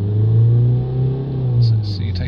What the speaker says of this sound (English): Give it a rev up.